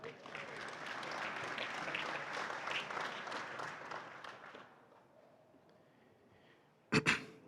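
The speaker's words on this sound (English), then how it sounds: "So give yourself a round of applause" Audience applause at a charity breakfast event, a steady wash of clapping for several seconds that fades into quiet room tone, followed by a brief sharp noise near the end.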